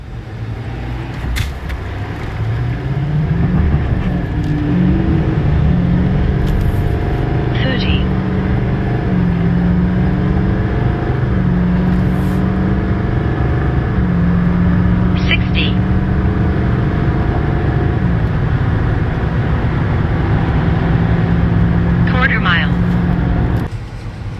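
Ram 3500 pickup trucks towing a load, engines droning steadily under acceleration with rising and shifting tones over a long pull, heard from inside the cab at moderate volume with occasional faint clicks.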